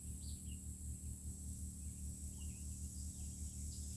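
Birds call outdoors in a natural setting, with scattered faint high chirps over a steady low background hum and insect-like drone, no voices present.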